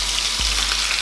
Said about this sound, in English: We're gonna sear these on each side for 4 minutes apiece.